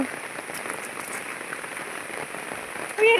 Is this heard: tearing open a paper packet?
no